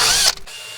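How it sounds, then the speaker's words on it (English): Wire wheel grinding surface rust off a metal disc, a loud, harsh broadband whir that cuts off abruptly after a fraction of a second, followed by a quieter ringing tail. "I'm just going to take the rust off the top of this with the wire wheel"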